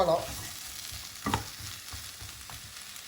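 Fried chicken 65 pieces tossed with raw onions in a pan off the heat, a soft steady sizzle with a few scraping strokes of the spoon, close and fairly quiet.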